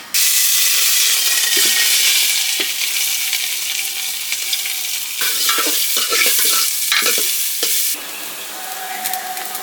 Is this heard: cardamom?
yes